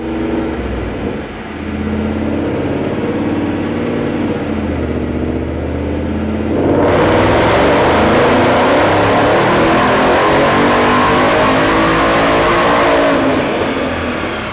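Supercharged Roush Phase 1 Mustang GT, a 2015 model with a 700-horsepower kit, makes a dyno pull: a steady low engine drone swells into a loud, sustained high-rpm roar that holds to the end.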